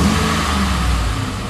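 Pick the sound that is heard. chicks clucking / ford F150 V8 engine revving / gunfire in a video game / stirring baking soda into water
ford F150 V8 engine revving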